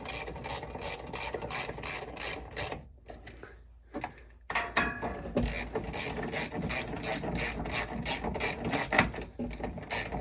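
Ratchet clicking in rapid bursts while snugging bolts during an oil change on a 2024 Ford F-250 diesel, close and loud, with a brief pause near the middle before the clicking resumes.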